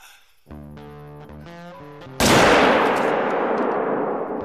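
A hunting rifle fires once in theHunter: Call of the Wild, a sharp, loud blast with a long rolling decay, following a stretch of tonal game music.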